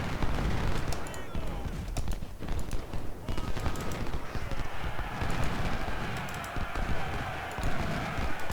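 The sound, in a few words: gunfire in video game Ultimate General Civil War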